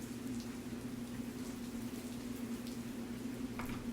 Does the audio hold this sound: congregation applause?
no